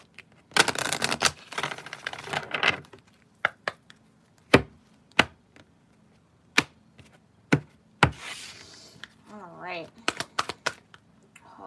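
Tarot cards being shuffled and riffled in bursts, with sharp taps of the deck on a hard surface and a brief voice partway through.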